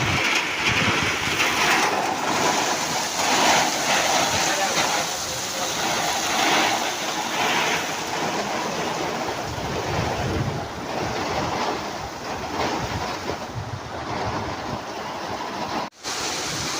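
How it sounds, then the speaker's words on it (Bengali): A heavy monsoon downpour in a town street, with a dense, loud and unbroken roar of falling rain and gusty wind noise that holds steady throughout. "মুষলধারে বৃষ্টি হচ্ছে, মুষলধারে যাকে বলে।"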